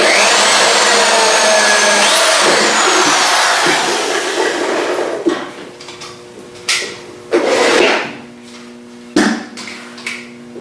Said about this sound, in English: pilot drill, then run the screw